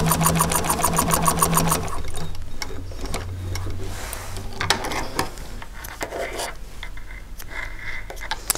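Sewing machine stitching upholstery fabric in an upholstery workshop, a fast rhythmic run of needle clatter for about two seconds, then quieter handling and rustling of fabric while a person talks close by.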